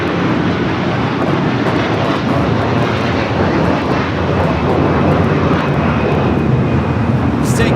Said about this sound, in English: Takeoff is Hawaiian Airlines 803 taking off to Honolulu on the A330-200